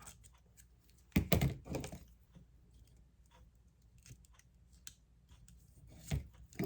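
Scissors snip through paper for a travel scrapbook page, a few close crisp cuts in two quick bursts with a lone snip near the end, otherwise quiet handling.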